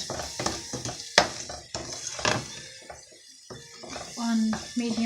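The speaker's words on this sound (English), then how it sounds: "I'm going to continue browning this spice mix" A spice mix for black bean sauce browns in a pan over medium-low heat, a quiet sizzle broken by sharp utensil scrapes and clinks, with a voice talking intermittently.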